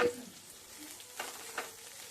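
Fish sizzles in a frying pan on a low simmer, a soft continuous crackle with a couple of slightly louder pops, no voices.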